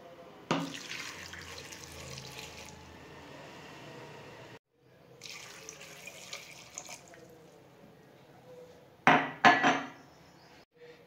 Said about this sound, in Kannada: ಈಗ ಇದಕ್ಕೆ ನೀರು ಹಾಕ್ಕೊಳ್ಳೋಣ.